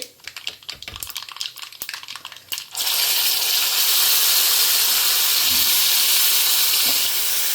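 Mustard seeds pop and crackle in hot oil in a pan for an amla and kadar narthangai pickle, a busy run of close snapping pops. After a few seconds a loud, steady sizzling hiss suddenly takes over.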